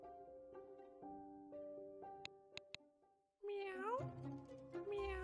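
A cat meows in The Cat Machine puzzle video game; after light game music with a few bright chimes, a loud, drawn-out meowing sound rises and wavers to the end.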